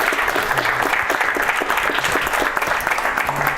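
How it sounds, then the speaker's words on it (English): An audience at an accessibility meetup gives a speaker a round of applause, steady dense clapping at close range with a few faint voices mixed in. "Let's give a round of applause for Jesse."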